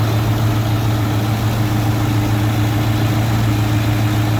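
Idle of a 2002 Ford Expedition started for the first time in over a year, a steady, loud low hum with a constant pitch and even vibration throughout, with no voices.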